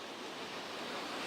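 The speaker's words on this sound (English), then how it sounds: "Brent, the rain has picked up quite a bit out here, and you definitely still need an umbrella" Steady rain falling outdoors on a city street during a heavy December storm, a dense even hiss of water with no distinct drops or voices, constant and moderately loud throughout.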